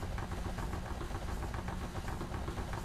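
A racing car engine in a racing video game held at throttle on the grid, a steady, dense, buzzing drone that stays constant and fairly loud throughout with no pauses.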